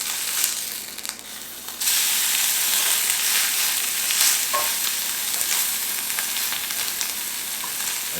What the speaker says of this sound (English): So I'm going to sear this